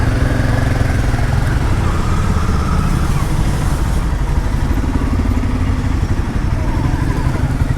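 Motorcycles rumbling along a road in Ladakh, a loud, steady, close engine drone with throaty low chugging that persists throughout without a break.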